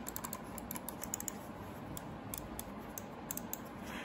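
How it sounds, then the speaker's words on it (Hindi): Rapid light plastic clicks from the buttons of an EvoFox Spectre budget gaming mouse come in quick irregular bursts, close and fairly quiet over a steady background hiss. "इसके जो क्लिक्स है उसकी आवाज़ सुन लो"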